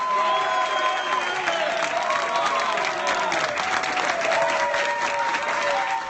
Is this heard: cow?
no